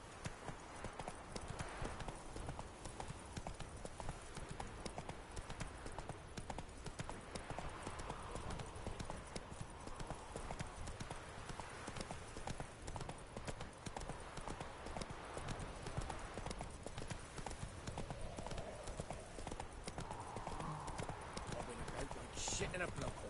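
Horse hooves clip-clopping steadily in The Witcher III game, a continuous trotting rhythm across the whole stretch, heard under frequent spoken dialogue.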